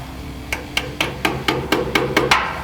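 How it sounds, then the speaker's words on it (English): A hammer taps the horseshoe-shaped brake caliper keeper on a 1963 C2 split-window Corvette during a rear disc brake conversion, nine sharp metallic strikes at a steady, slightly quickening pace, close and loud with no talk. "Give it a little tap of the hammer."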